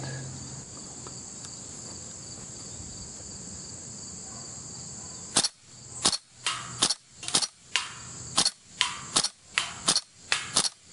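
A WE M14 gas blowback airsoft rifle fired outdoors, about a dozen sharp cracking shots in an uneven rhythm after a quiet stretch with insects chirping in the background.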